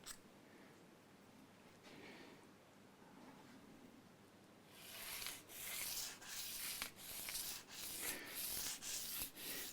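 Abrasive rubbing and sanding along the edge of an Epiphone Explorer guitar body, quiet scratching at first, then louder repeated strokes in a steady back-and-forth rhythm, close by with no talking.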